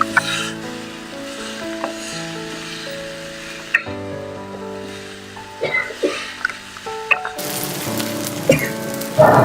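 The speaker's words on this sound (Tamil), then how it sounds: "அதையும் போட்டு நல்லா மிக்ஸ் பண்ணலாம்." Shredded parotta is stirred and fried in a pan for kothu parotta, with soft sizzling and irregular scrapes and knocks of the utensil, heard beneath background music.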